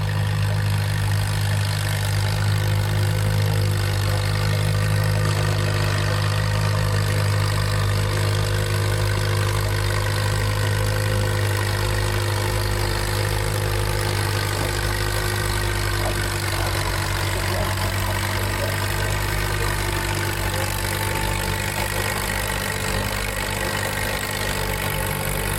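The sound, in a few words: antique tractor engine idling at tractor pull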